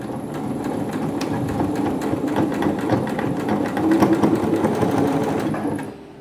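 A sewing machine stitches along bias binding in one fast, continuous mechanical rattle that runs close and loud before stopping at the end.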